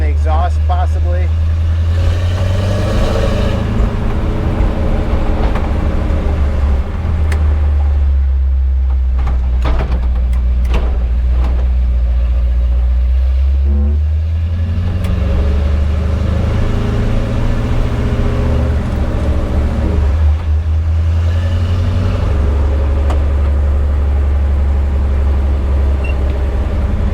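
A 1975 Ford F150 pickup drives and accelerates, its low engine drone rising and falling in long surges with cabin rattles and clanks, someone talking over it.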